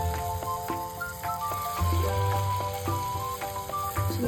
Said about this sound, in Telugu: ఆయిల్ హీట్ అయిపోయిందండి. ఇప్పుడు ఆనియన్ బజ్జీలను వేసుకుందాం.